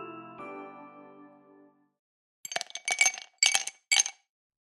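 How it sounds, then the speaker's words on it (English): Ice cubes drop into a glass in four quick, bright clinks close to the microphone, following a fading ringing tone and a short silence. "It was ice being dropped into a glass."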